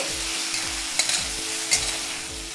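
Bitter gourd being sautéed in a pan with tamarind pulp, a steady close sizzle with a low steady hum beneath, punctuated by a couple of sharper spatula scrapes, no voices.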